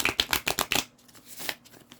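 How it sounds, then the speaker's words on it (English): A deck of cards is riffled quickly, a crisp burst of rapid flicking snaps for under a second, followed by quiet rustling. "Let me actually shuffle this deck up one more time."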